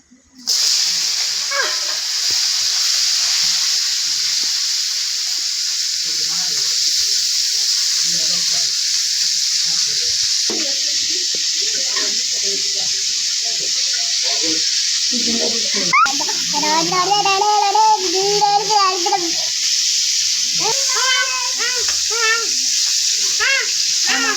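Fish frying in hot oil give a steady, loud sizzle and hiss that runs throughout, with a voice speaking over the crackling now and then.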